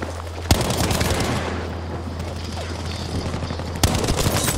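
Battlefield V gunfire crackles in dense, continuous bursts over a low rumble, with two loud sharp shots standing out near the start and end.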